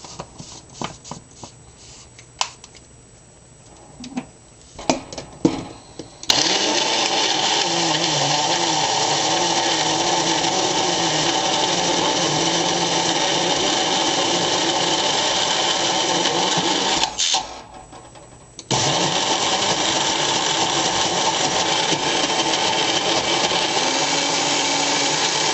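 Pistachios ground into pistachio butter in an electric grinder, with a few short bursts at first, then a loud, steady whirring drone that runs continuously, briefly stops, and starts again, no talking.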